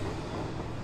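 A Manhattan-bound 2 subway train at a station, a loud, steady broadband rumble and roar of the train close by, brief and continuous with no voices.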